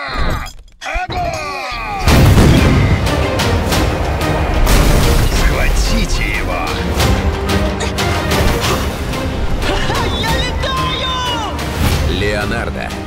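Loud booming blasts and shattering crashes of cannon fire, with a chaotic battle din and voices shouting over it.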